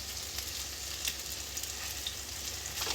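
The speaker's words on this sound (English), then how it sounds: "we're just gonna brown it on all sides" Meat browning in a hot pan gives a steady, close sizzle and crackle with small pops, holding even for the whole stretch with no talking.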